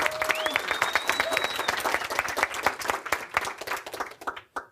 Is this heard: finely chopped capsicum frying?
no